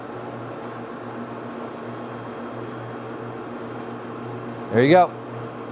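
Steady mechanical hum and whir of a Mazak Mark II gap bed lathe with its lead screw turning during threading, running evenly throughout, with a brief spoken remark near the end.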